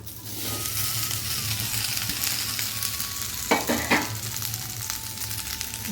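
Okra (lady's finger) fries in a modest amount of oil in a pan, making a close, steady sizzle. Two sharp bursts of stirring scrapes break the sizzle partway through, with no talking.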